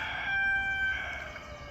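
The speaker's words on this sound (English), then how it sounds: "thank you, Rooster" A rooster crows once in a long, drawn-out call beside a mountain garden where tomatoes are being planted, clear and fairly close above a steady outdoor background.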